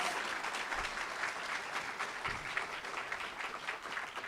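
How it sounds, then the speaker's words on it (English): Audience at an LXX Council Meeting general assembly applauding for LG Casino: continuous, dense clapping from a crowd, steady and somewhat distant, with no speech over it. "A round of applause for LG Casino"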